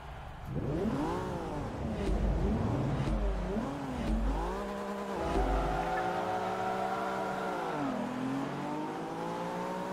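Race car engines revving and shifting through the gears with some tire noise on the Twin Ring Motegi circuit in the Forza Motorsport 3 racing game, a loud, close engine drone that climbs and falls with each gear change.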